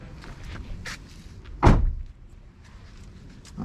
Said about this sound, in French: la porte fait un beau bruit, effectivement